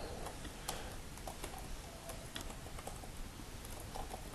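Quick, light keystrokes on a computer keyboard, irregular clicks tapping out a short word over faint background hiss, with no one talking.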